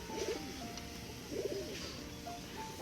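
Soft, low cooing of a pair of crested pigeons in two short bursts, fairly near, over a faint background hum.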